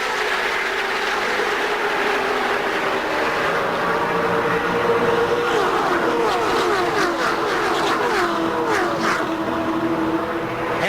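A pack of NASCAR stock cars roars past at the start of a 2002 Daytona Gatorade 125 qualifying race in a sustained, loud drone, with rising and falling engine tones layered over each other.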